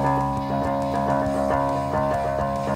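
Guitar played through an Electro-Harmonix Nano POG octave pedal, split between a bass amp and a guitar amp, a loud sustained chordal drone with steady pulsing rhythm.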